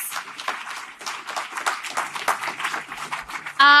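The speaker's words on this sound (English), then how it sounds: "keep that applause going for yourselves for being such a fantastic audience" An audience at a poetry gala applauds, a steady, dense patter of many hands clapping close by, ending in a brief voiced sound.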